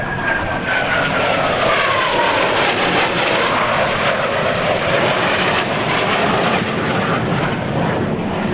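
US Navy Blue Angels jets roar past at an airshow in New York, a loud continuous rushing jet noise with a sweeping pitch change as they pass, filling the whole stretch.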